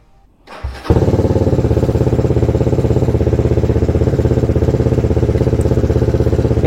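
A quickshifter-equipped motorcycle engine fires up after a brief rustle and settles into a loud, steady, rhythmic idle that runs without pause, close by, with no talking over it.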